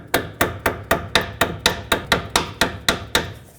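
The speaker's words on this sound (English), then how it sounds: "I'm going to take my small hammer and bend this washer over the tie rod" Sharp metallic taps from a small hammer bending a washer over an outer tie rod on a Toyota Camry strike about fifteen times in a steady, even rhythm, close and crisp, each ringing briefly.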